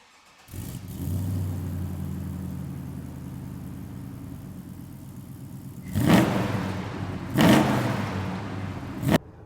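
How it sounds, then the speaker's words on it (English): A 1987 Chevrolet C10 pickup with a swapped 6.0L LS V8 rumbles steadily at idle and low cruise, then revs up sharply twice as it accelerates, heard from close by without any talking. "let's take this one for a drive"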